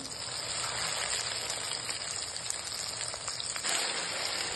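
Ground masala paste for mutton rassa sizzling and spitting in hot oil in a pan, a continuous close hiss with crackling pops and no talking.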